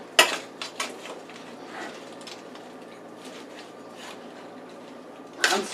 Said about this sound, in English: I'm stirring it because all my seasoning is on the top and I want to make sure it gets throughout.